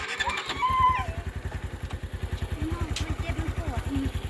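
A motorcycle engine idles with a steady fast chug close by, briefly blipping higher early on, while voices talk over it.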